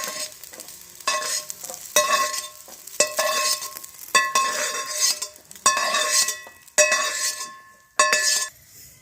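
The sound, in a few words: garlic frying and being stirred for pirandai pickle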